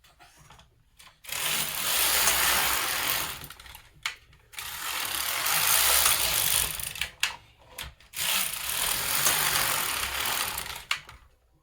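A knitting machine carriage runs back and forth across rows while knitting a hemmed brim hat, giving three long loud mechanical whirring passes with brief quiet pauses and clicks between strokes.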